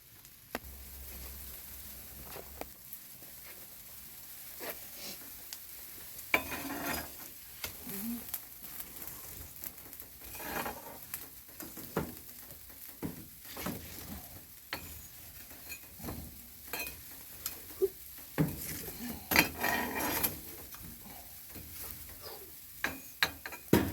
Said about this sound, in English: We're going to bank it up for cooking, sweep it off, and then check the temperature, clean the floor